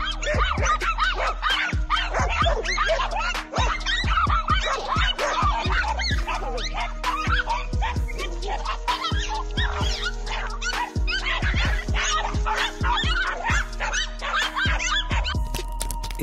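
A pack of dogs confronting a lizard yips, whimpers and barks in a busy, continuous chorus, close and loud, with a steady low hum underneath.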